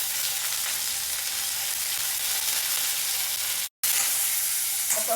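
Mustard seeds, urad dal, fenugreek, a dried red chilli and curry leaves tempering in hot oil for village-style pappu pulusu, a steady loud close sizzle and crackle with a brief cut partway through.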